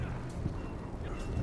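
Horse hooves clip-clop faintly in the Game of Thrones Telltale video game, a few soft steps under a steady low background rumble.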